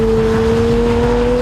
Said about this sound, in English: And hear the revs flare there.